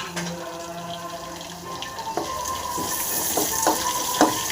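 Mustard seeds, crushed garlic and chili crackle and sizzle in hot oil, with a steady frying hiss and a few sharp spattering pops, close by.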